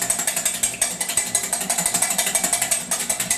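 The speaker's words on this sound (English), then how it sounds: "You take 2 egg whites and you beat them until they're nice and foamy" Two egg whites beaten by hand until foamy, a fast steady whisking rhythm of repeated clicks and scrapes against the bowl, close and continuous throughout with no talking.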